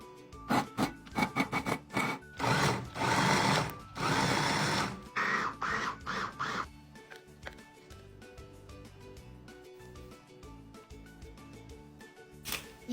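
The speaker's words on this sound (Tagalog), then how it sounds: "Mix all the ingredients." Shanghai lumpia filling of ground pork, onion, garlic, parsley, carrots, egg, pepper and salt is mixed by hand, giving close, loud squelching and rubbing bursts for several seconds that then fade into quieter handling.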